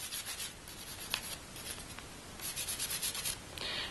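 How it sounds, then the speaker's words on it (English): A brush scrubs the trigger group of an HK SP89 pistol with solvent, with faint, close scratchy rubbing strokes in short uneven bursts and a few sharper ticks. "I'm going to go ahead and scrub the whole trigger group"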